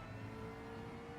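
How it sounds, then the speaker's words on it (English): McLaren race car engine revving steadily in Gran Turismo 7 at Fuji, a continuous droning mid-pitched tone with a sustained whine, alone and moderately loud. "That's McLaren."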